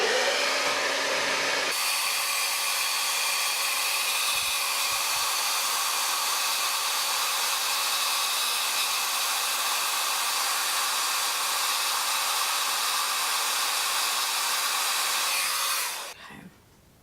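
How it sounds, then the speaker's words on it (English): A hair dryer blows hot air onto a makeup palette to loosen its glue, a loud, steady whirring roar that starts abruptly, holds constant and cuts off near the end. "So I'm gonna try to blow dry this a little bit and loosen up the glue with the heat"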